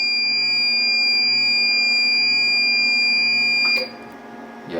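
A UPS unit sounds its alarm after a large spark burns part of a cable, a loud continuous electronic tone, steady and close, dropping off near the end with a brief click.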